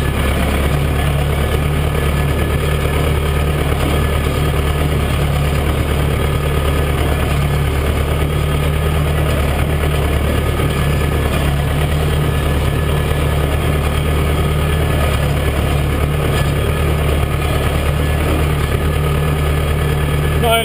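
A tractor with no cab windows drives along carting straw, its engine droning loud and constant right up close, with bumpy rattling throughout.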